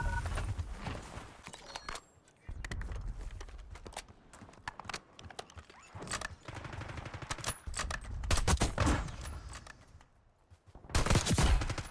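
A shooter video game fires off repeated gunfire, with rapid volleys and single sharp cracks scattered across the match and several dense bursts near the end, mixed with faint footsteps and game ambience.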